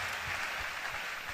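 A congregation claps in a brief, dense burst of applause, many hands together, with low thumps beneath the steady patter.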